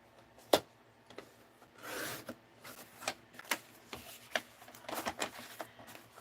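Paper trimmer blade slicing through card stock, a series of sharp, quiet scraping swipes and clicks at irregular intervals, close up with no voices.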